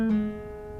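A single acoustic guitar pull-off sounds as a quick plucked note that drops to a lower ringing pitch and fades softly, close and unaccompanied.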